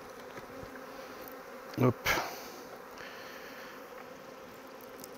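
Honeybees hum in a steady, close drone around an open hive during an inspection, the buzzing continuous throughout, broken by a couple of brief handling knocks and a short spoken word.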